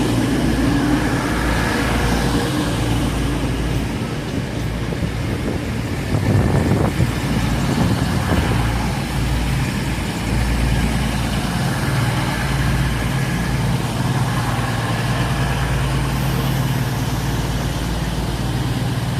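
East Midlands Trains diesel unit idling at Leicester station, a loud, steady low engine rumble with station ambience throughout and a brief clatter midway.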